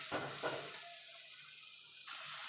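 Fried potatoes being stirred into spice paste and oil in a pan while cooking a home-style rui fish kalia, with a soft steady sizzle and a couple of scraping stirs near the start.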